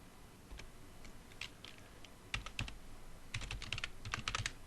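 Someone types on a computer keyboard in short bursts of quick, close clicking keystrokes with brief pauses between them, fairly quiet against a low room hum.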